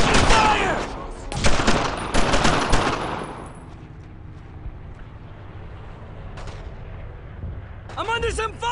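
Loud bursts of rifle and machine-gun fire in a World War II squad shooter game, close and intense for the first few seconds, then fading to a low rumble before another short volley and a voice near the end.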